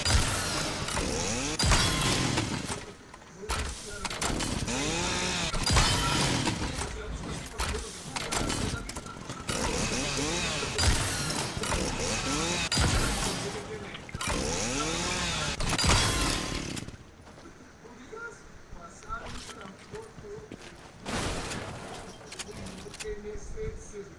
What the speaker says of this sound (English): it's like a chainsaw in the game